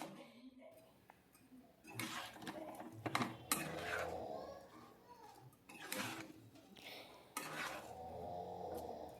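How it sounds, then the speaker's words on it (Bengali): Gobindobhog rice and vegetables stirred in a pot with a spoon, intermittent scraping and clattering strokes at a low level, with soft talk in between. "এবার দিয়ে এটাকে একটু ভালো করে নেড়ে নেব।"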